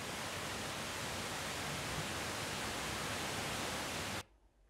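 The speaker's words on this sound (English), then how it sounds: "It was a waterfall." Steady, dense roar of a waterfall, loud and close, a broad unbroken wash of rushing water for about four seconds before it cuts abruptly to near silence.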